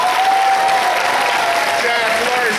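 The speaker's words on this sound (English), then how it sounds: "I do want you to give a round of applause for Paul Levitz" Comic-Con crowd at a Superman 75th anniversary panel bursts into sustained applause with some cheering, dense and loud throughout.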